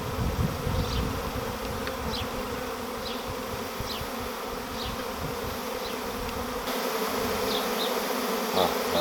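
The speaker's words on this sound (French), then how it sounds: "On voit bien le flux d'abeilles, ça rentre dedans apparemment." A large honeybee swarm buzzes steadily and densely as it streams into a hive on a château estate, a continuous close hum with a few individual bees zipping past the microphone.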